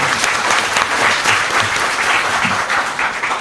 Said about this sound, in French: Applaudissez pour monsieur le